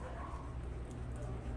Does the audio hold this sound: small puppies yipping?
yes